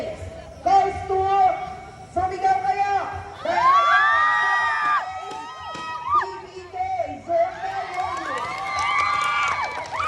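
Crowd at a Zumba Day contest shouting and cheering as winners are announced, with high children's shouts and whoops rising in loud bursts close by, mixed with an announcer's amplified talk.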